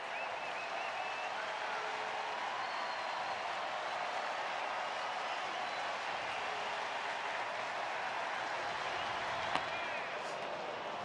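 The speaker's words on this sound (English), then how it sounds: "Crowd's on its feet, and why not?" Baseball crowd at a Pirates–Angels game in Los Angeles rising to its feet, a steady broad roar of cheering and clapping sustained throughout at moderate distance, with a brief sharp accent near the end.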